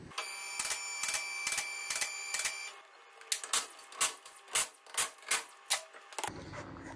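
Impact gun or ratchet spinning off wheel nuts on a 2015 Vauxhall Vivaro van, with rapid regular bursts of mechanical rattling followed by sharper clacking pulses, close up and fairly quiet, no talking.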